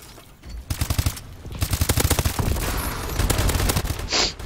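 A remote turret in Call of Duty fires long rapid bursts of automatic gunfire, loud and close, with short pauses between bursts and no talking.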